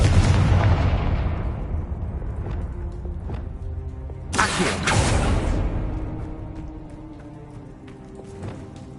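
A fire spell blast in the Hogwarts Legacy video game: a sharp, loud burst midway through, over steady rumbling game sound and low booms, with no talking.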